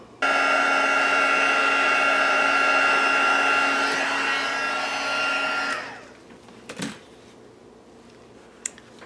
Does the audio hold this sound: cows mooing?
no